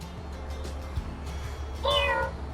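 A Loona AI robot pet gives a single short synthetic cat-like meow near the end, clear and close, after a stretch of quiet room background.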